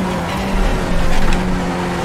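Skip Barber race car engine droning steadily through the Long Beach street circuit in iRacing, a sustained near engine tone with a brief swell midway, no talking.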